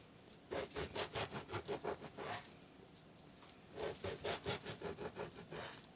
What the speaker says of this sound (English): I like to cut the bread diagonally because it makes the slices